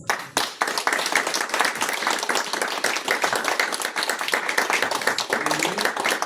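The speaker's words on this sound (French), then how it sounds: "Est-ce qu'on peut acclamer le Seigneur?" Congregation at a French-language church seminary applauding and cheering in praise, a dense, steady wash of many hands clapping close and loud throughout, with scattered voices mixed in.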